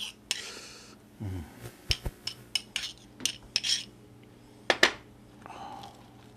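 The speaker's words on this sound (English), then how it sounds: "You get this honey butter that I mixed up, or I'm mixing up currently." Honey butter being mixed in a bowl, heard as a series of sharp clicks and clinks of a utensil against the dish at an irregular pace, close and fairly quiet.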